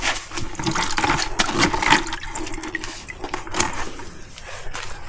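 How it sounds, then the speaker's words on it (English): Solvent and oil squeezed out of a foam air filter from a Yamaha YZ450 dirt bike, a wet, sloshing squelch with dripping liquid that swells and fades in several close squeezes. "the filter and the solvent. Wring it out. As much out as you possibly can."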